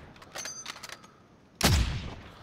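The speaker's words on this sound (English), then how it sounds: "Where's that gunfire?" Video game gunfire in an online squad match: scattered distant shots and pops at first, then a loud, close burst of firing that booms and slowly fades.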